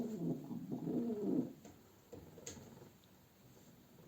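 Tumbler pigeons coo softly and close by in a couple of low, rolling bursts, followed by quiet rustling and faint background noise.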